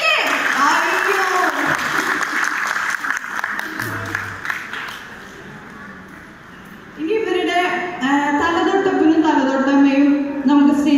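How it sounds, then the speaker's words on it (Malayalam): Wedding guests at a Christian ceremony clap in a crowd, with a burst of applause at the start and another later, while an anchor speaks loudly over and between them on a PA. "നന്നായിട്ട് കൈയടിക്കുക"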